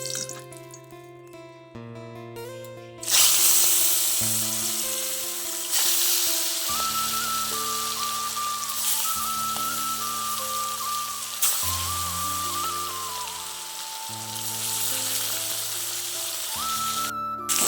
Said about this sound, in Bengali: এবার আমি মাছগুলোকে দিয়ে ভেজে নেবো।